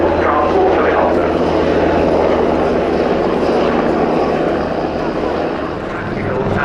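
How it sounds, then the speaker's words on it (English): A German Army NH Industries NH90 tactical transport helicopter at the RIAT airshow gives a steady, loud rotor and engine drone that holds throughout with broad noise and only slight swells. "It's the NH Industries NH-19 TT-8 Tactical Transport Helicopter."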